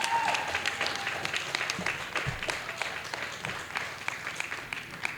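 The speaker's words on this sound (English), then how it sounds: "Let's give them a round of applause." Applause from an audience at a school board meeting for student athletes, a steady patter of clapping at moderate volume that lasts throughout with faint voices mixed in.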